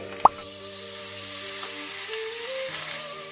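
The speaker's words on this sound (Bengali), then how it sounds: "এবার আমি সামান্য করে একটু জল দিয়ে নেব, যাতে মশলাটা না পুড়ে যায়" A little water goes into frying spices and grated coconut in a pan, a single sharp splash followed by a soft, steady sizzle that settles down.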